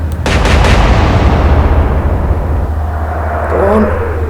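Naval guns firing in the Atlantic Fleet video game, a loud close blast followed by a long rumbling roar that slowly fades, with a faint mechanical whine near the end.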